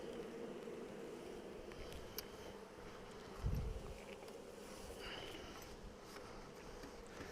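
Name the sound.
honeybees buzzing around an open beehive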